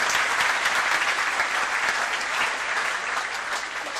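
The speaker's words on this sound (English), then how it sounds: "Could you keep that applause going tonight" A large crowd applauds for the Mayor of Gosford City at the Clubs NSW Academy Games 2015, with steady, loud, continuous clapping and no voices on top.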